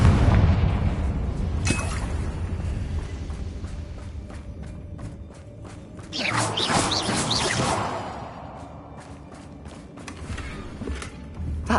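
A Confringo fire spell blasts in a Hogwarts video game, heavy booms and whooshing bursts layered over a busy combat soundscape, with a loud rush of flame midway.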